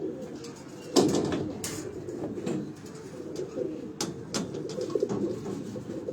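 Several pigeons coo in a low, continuous burble on a Lahore rooftop, close and steady, broken by a few sharp knocks and rustles.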